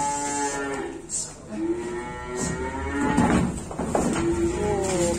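Limousin bull mooing at a cattle dealer's yard, several loud, drawn-out low bellows close by, one after another with short breaks, no talking.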